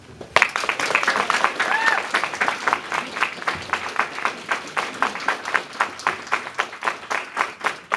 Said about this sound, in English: This audience has earned the right to applaud.